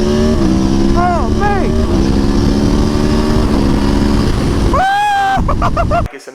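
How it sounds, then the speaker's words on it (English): A V4 motorcycle engine drones loudly and steadily up close, with a few quick revs rising and falling and a sharp throttle blip near the end before it cuts off; a voice is heard over it. "that V4 engine is amazing and unique, man"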